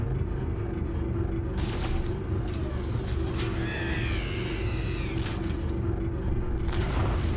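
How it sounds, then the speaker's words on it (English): A grenade goes off in the Warhammer 40,000 video game: a deep booming rumble that rolls on for several seconds, with sharper crackling bursts over a continuous low drone. "Get out of the way of that grenade."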